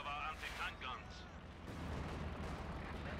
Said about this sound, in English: There's frags coming in on them.